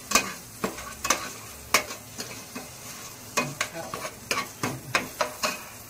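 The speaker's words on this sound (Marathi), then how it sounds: "कांदा परतून झालाय, आता आलं लसणाची पेस्ट टाकतोय।" Onion fries with ginger garlic paste for pav bhaji under a soft background sizzle, punctuated by sharp, irregular spatula clacks against the pan at close range.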